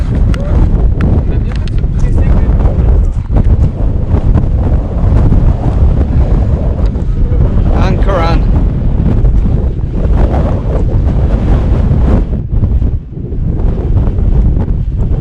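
Strong wind on a beach near the Old Man of Storr buffets the microphone in a constant loud roar, with surf faintly underneath and a voice speaking briefly through it.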